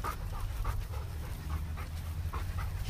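A dog pants steadily nearby, quick rhythmic breaths repeating through a low rumbling outdoor background, with no talk.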